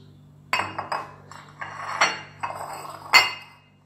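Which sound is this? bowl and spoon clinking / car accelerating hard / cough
bowl and spoon clinking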